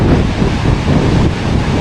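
Loud, roaring wind buffeting the microphone continuously on an Icelandic coast, a dense rumbling rush with no pauses.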